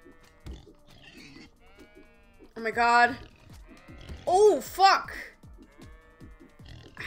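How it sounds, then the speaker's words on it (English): Sheep bleat in a video game, several wavering, nasal cries rising over a quiet background, interleaved with a person's startled exclamations. "these sheep are fucking me up"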